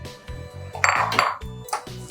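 Sprouted moong dal tipped into a metal pressure cooker, with a run of quick metallic clinks and knocks and a brief scraping rattle of beans against the pot, close and alone.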